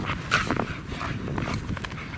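A jealous pet dog named Max at home, heard as brief whimpers and muffled scuffling noises at close range, with no one speaking.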